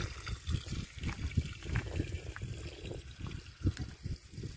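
Fresh mountain stream water trickling and gurgling as bottles are filled, a close, uneven splashing and pouring with irregular bursts, moderately quiet and continuous.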